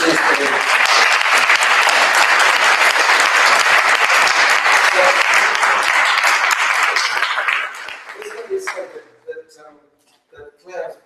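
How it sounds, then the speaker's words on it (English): A conference audience gives a long, loud round of applause for an organiser, dense clapping from many hands that fades out after about eight seconds, followed by someone speaking briefly. "I would like to give a huge round of applause to Claire"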